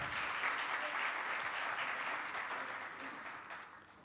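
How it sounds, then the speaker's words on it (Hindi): Sustained audience applause fills a seminar hall at a poet's birth-centenary event, dense steady clapping without a break, slowly fading toward the end. "तालियां जोर से बजनी चाहिए।"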